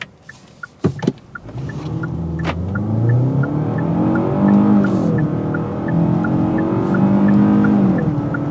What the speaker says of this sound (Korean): 주행 시작에 앞서서 일단 가속을 한번 먼저 좀 해볼게요.